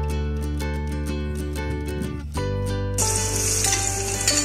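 Sliced onions dropped into half a cup of hot oil, a loud, close hiss bursting in partway through and continuing, with music playing before and beneath it.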